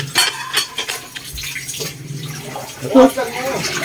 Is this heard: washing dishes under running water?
yes